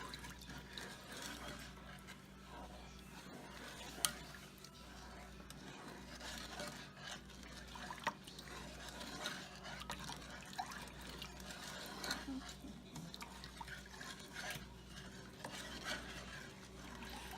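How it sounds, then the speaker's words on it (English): Cherry juice being stirred into a Thanksgiving dinner dish, a continuous soft scraping and swishing with faint ticks and a low steady hum beneath, fairly quiet and without talk. "And here's the rest of the cherry juice from the cherries. And we're just going to give that a stir."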